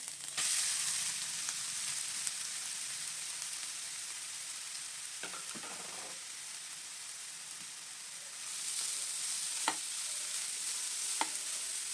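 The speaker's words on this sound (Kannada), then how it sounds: "ಈಗ ಇದೇ ತುಪ್ಪಕ್ಕೆ ನಾನು ಇವಾಗ ಕ್ಯಾರೆಟ್ ಹಾಕೋತಾ ಇದ್ದೀನಿ" Grated carrots sizzle steadily in hot ghee for carrot halwa, a constant close hiss with a few sharp pops and crackles scattered through.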